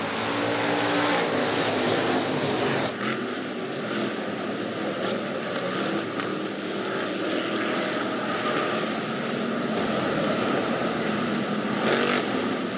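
Hobby stock race cars in a 20-car A feature at Rapid Speedway roar continuously at close range, engines droning loud with a pack passing by and whining surges rising and falling over the din.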